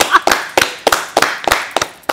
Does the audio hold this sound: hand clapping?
yes